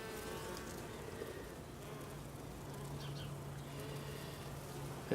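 Bees buzzing steadily throughout a beehive inspection, a continuous low drone close by with faint rustling, no talk.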